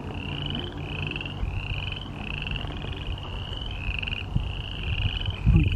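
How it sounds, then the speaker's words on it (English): A dense chorus of frogs trilling in repeated rising calls, steady and continuous over a low outdoor rumble. "The chorus frogs have begun to sing."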